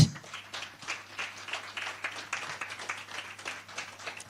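Audience applause welcoming a panel speaker at a Ghana youth meeting panel discussion for International Youth Day, a steady, dense patter of many hands clapping that carries on throughout, moderately loud and unbroken.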